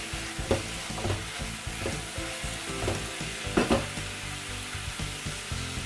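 Minced meat added to onion and garlic frying in a pan, a close crackling sizzle broken by repeated rhythmic scrapes and knocks of a spoon stirring.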